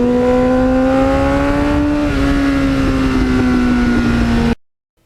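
A Kawasaki GPX750R Ninja motorcycle with 38,000 miles holds a steady, loud engine and exhaust drone on the throttle while riding, pitch dipping slightly midway before cutting off abruptly.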